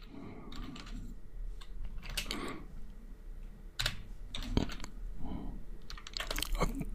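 Computer keyboard typing while entering a CSS style tag, with irregular bursts of crisp key clicks and short pauses, close and moderately loud over a faint room hum.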